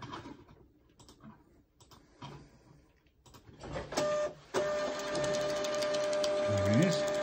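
A TSC label printer starts up after a few clicks and handling noises, then runs with a steady mechanical whir and a faint rising motor tone near the end, while someone talks nearby.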